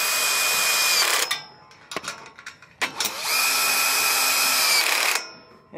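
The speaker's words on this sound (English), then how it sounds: "Put the wrench underneath, the drill on top." A power drill whirs in two long, loud bursts separated by a brief pause with clicks, the motor whining steadily as it tightens bolts on the front hitch of a paddleboard trailer, a wrench holding the nut underneath.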